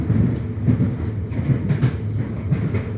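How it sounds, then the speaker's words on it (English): A freight train rumbles steadily past nearby on Melbourne's Werribee line, with low rolling noise and faint rhythmic clacking of wheels on the track. "Lots of freight trains around."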